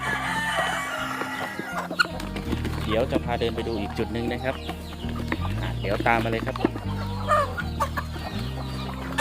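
Native Thai village chickens clucking and calling in a backyard coop, several birds close by under someone speaking throughout.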